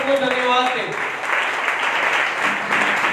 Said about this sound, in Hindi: प्रभु यीशु मसीह की एक जोरदार तालियों के साथ प्रभु को धन्यवाद दें